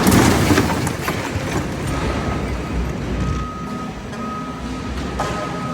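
A pickup truck hooked to a 14 by 7 foot hydraulic dump trailer reverses, its steady beeps sounding in a regular series over low rumbling and background noise.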